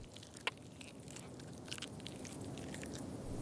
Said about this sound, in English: Bugs are a crunchy snack